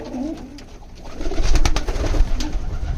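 Pigeons coo in a loft, several low throaty calls overlapping close by, with wing flutters and rustling growing busier over a few seconds.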